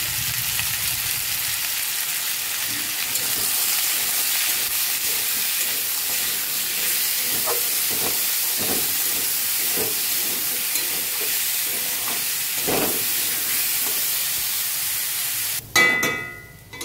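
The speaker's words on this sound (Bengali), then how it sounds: "এখন আমি মুড়ি ঘন্টার আলুগুলো ভেজে নেব।" Steady, loud sizzling hiss of potatoes frying in oil with salt and turmeric, continuous throughout with occasional stirring clatter, ending in a burst of louder scraping.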